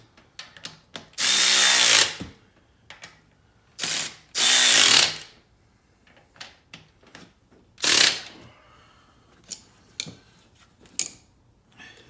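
Ratchet tightening the bolts on an oil pan during installation, alternating back and forth: three loud bursts of rapid clicking separated by quieter metallic handling and small taps, close up with no talk.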